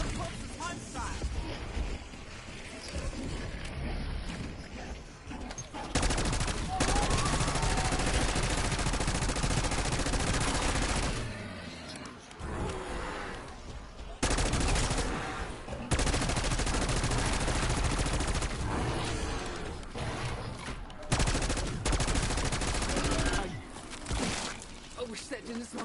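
Rapid bursts of gunfire in a video game, loud and dense across most of the stretch, broken by a few brief lulls, with a voice talking over parts of it.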